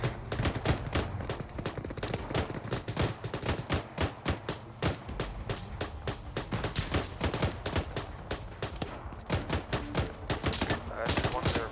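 Dense gunfire rattles through a firefight in the military simulation game Arma 3, with rapid bursts and single shots packed closely together for the whole stretch, loud and continuous.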